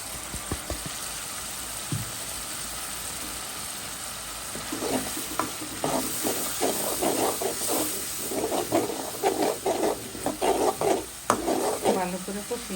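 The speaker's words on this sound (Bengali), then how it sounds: "ভালো করে কষিয়ে নিব।" Chicken skin sizzles in a pan with turmeric, chilli, coriander and cumin, a steady hiss broken by repeated scraping stirs that grow busier toward the end, close and with no speech.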